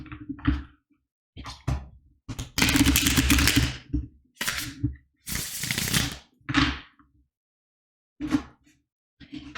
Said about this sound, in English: we're going to shuffle the cards for pile number 1